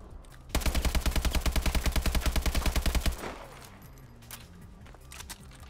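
An automatic weapon in Call of Duty Advanced Warfare fires a sustained, loud burst of about 2.5 seconds, a rapid, even rhythm of close shots that stops abruptly, then gives way to quieter game ambience.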